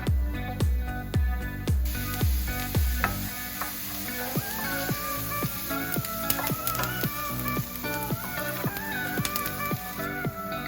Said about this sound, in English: Add the onions to the pan and cook for about 3 to 5 minutes